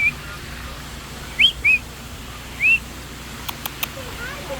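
A caged bird at a lakeside resort bird sanctuary gives three short rising whistles over steady outdoor background noise, with a few faint clicks toward the end.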